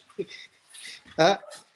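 Dogs whimper and yip close by in short bursts, brief and fairly loud, during a band interview.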